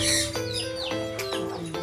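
Birds at a bird farm give bright, rising chirps and short whistled calls, several quick notes close by over a steady background hum.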